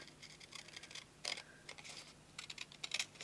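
Scissors snipping around a stamped paper card in a home card-making session, a series of short, crisp cuts in irregular bursts, quiet and close, with no speech.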